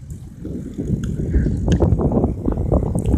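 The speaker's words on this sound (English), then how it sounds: "I'm riding my bike" Someone rides a bike down a hill with a hand on the brake, steady wind rush and rattling mechanism noise rising after the first second and holding loud and close to the end.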